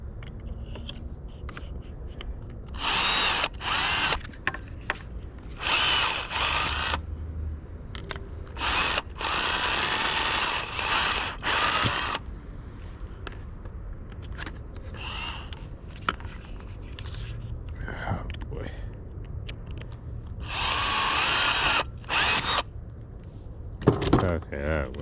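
A power drill bores a hole in a bumper support for a Redcat Kaiju RC truck, several short high-pitched whirring bursts separated by pauses, close up, with faint talk and handling noises between them.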